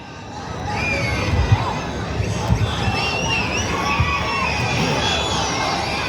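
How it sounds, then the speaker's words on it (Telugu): A large crowd at an open-air political rally in Korukonda cheers and shouts continuously, a loud dense roar of many voices with scattered whistles and high yells rising above it. "మీ అరుపులు మీ కేకలు"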